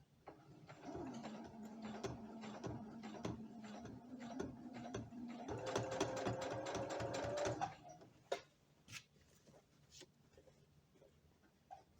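A sewing machine stitches slowly through a bulky folded stress area of fabric for shorts, a close run of regular mechanical ticks that speeds up briefly before stopping, followed by a few scattered clicks.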